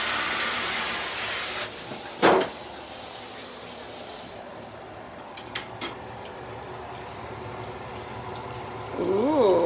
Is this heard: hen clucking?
no